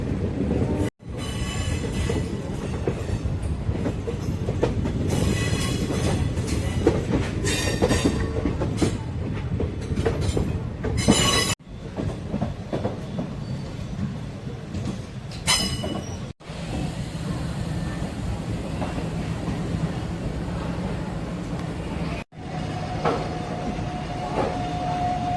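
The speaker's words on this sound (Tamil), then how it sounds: "திருச்சி ரயில்வே ஸ்டேஷனுக்குள்ளே போகும்போது செம்ம கருவாச்சி ட்ரெயின் போகுது" An ICF rake passenger train rolls into Tiruchirappalli railway station, heard from on board as a loud, steady rumble with rhythmic clickety-clack over rail joints and squealing wheels, broken by several brief gaps.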